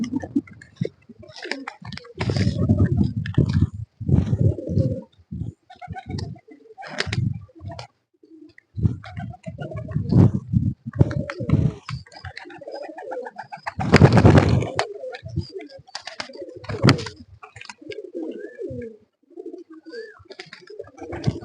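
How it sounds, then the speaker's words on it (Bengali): Pet pigeons coo in repeated low, throaty bursts at close range, with irregular pauses and some rustling and handling noise between the calls. "আমার পায়রাগুলো এই যেগুলো বন্ধুর মতো আমার সঙ্গে আসছে, আবার চলে যাচ্ছে।"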